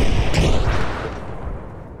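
Loud deep blast as grenaded mines detonate in the Arma Reforger war game, a sharp close explosion with a second burst, then a rumbling tail that slowly fades.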